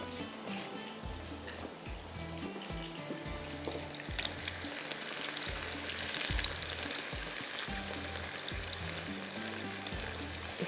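Onion rings deep-fry in oil for mutton korma, a steady bubbling sizzle that swells louder partway through, with a low intermittent hum underneath.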